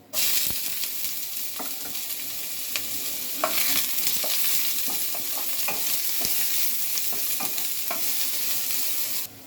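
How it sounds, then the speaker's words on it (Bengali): Chopped onions sizzle steadily in hot oil with bay leaf, cardamom and cinnamon for a vegetable pulao. A spoon scraping and clinking in the pan breaks up the close, constant frying hiss at irregular moments. "প্রথমে আমি তেলে তেজপাতা দিব, তারপর এলাচ আর দারচিনি দিয়ে দিব। এবার পেঁয়াজ দিয়ে দিব।"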